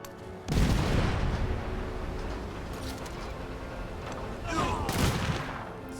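A field cannon fires in the Civilization VII video game: a loud booming blast, then a rumbling spread of gunfire that fades, and a second boom near the end.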